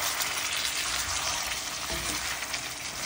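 Chicken for a semi-gravy fry sizzles in a pan as frozen coriander is tossed in and stirred, a soft continuous crackle with light scraping, fairly quiet and without talk.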